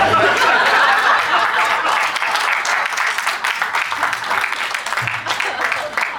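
Sustained audience applause at a conversation event with humourist Surendra Sharma, a loud continuous roar of many hands with scattered laughter mixed in throughout.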